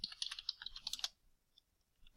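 Fast clicking of keys on a computer keyboard while filling in an online form, a quick burst of close, crisp keystrokes for about a second, then a few isolated taps after a pause.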